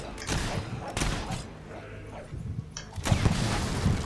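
A game battle in Fable 3 with scattered gunshots cracking out, a couple of sharp bursts separated by a quieter gap, then a heavier volley at the end, with voices shouting in the background.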